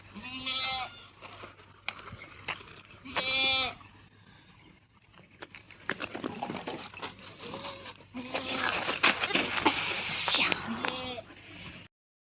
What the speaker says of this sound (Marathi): हे आहेत शिळीचे पिल्ले बघा